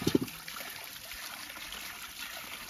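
Water overflowing and rushing steadily on a mountainside, a continuous close trickling stream with a brief knock or thump at the start.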